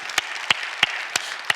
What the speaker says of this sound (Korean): 우리 감사의 박수 한번 할까요?